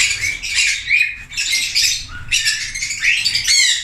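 Several lovebirds in an aviary give shrill, rapid chirps and squawks in close overlapping bursts, loud and near, with no talking.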